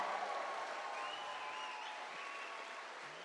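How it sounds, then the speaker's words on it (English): Town hall audience in Bedford, Pennsylvania applauding steadily for Tulsi Gabbard, a dense, even wash of clapping that holds at a moderate level throughout with faint voices mixed in. "Let's give another round of applause to Tulsi Gabbard."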